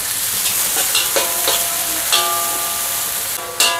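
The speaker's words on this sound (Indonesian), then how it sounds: "Sekarang saya akan goreng bawang merah, bawang putih yang udah kita iris." Sliced shallots, garlic and spring onion fry in hot oil in a wok, a loud continuous sizzle broken by scraping and clinking stirs, with a sharp flare of sizzling near the end.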